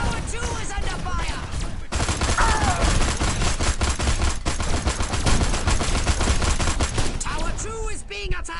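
Sustained gunfire in the Destroy All Humans remake video game as a tower comes under attack: a loud, dense barrage of rapid shots that breaks off briefly, then resumes with strange warbling tones layered over it.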